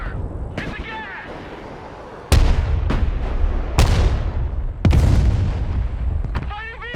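Combat gunfire and heavy blasts from a military video game mission, with a Striker armored vehicle crew under attack: loud booming shots and explosions in quick succession, close and punchy, mixed with shouted voices.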